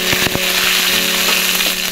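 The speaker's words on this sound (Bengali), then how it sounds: "তেলটা গরম হয়ে গেছে, শুকনো লঙ্কা, 5 ফোড়ন দিয়ে দিয়েছি, তেজপাতা দিয়ে দিয়েছি" Dried chilli, five-spice seeds and bay leaf sizzle steadily in hot oil, a close, continuous crackling fry with a few sharp pops.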